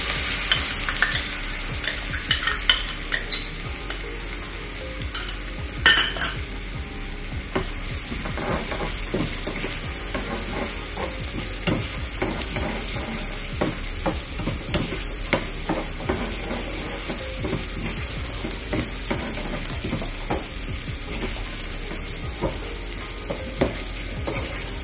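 Fenugreek seeds, mustard seeds, asafoetida, green chilli and crushed garlic sizzle and fry in hot oil for a tempering, with steady crackling, spoon stirring and a few sharp pops, close and without talk.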